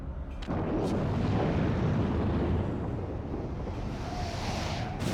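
Booming cannon fire from Imperial forces attacking a flying white whale in Final Fantasy XIV: a loud, sustained rumbling blast that starts abruptly and rolls on continuously with wind-like roar.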